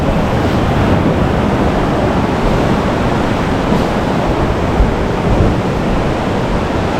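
Steady, loud ocean surf at Suluban Beach, Uluwatu, Bali, heard from a spot hanging over the water: a continuous broadband roar of breaking waves with no pauses and no speech.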